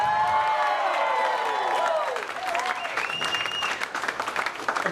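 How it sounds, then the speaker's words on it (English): Audience applause at a 2015 federal election community event with Mr. Trudeau, a dense, loud sustained clapping with a few cheers that continues steadily for the whole stretch. "Round of applause."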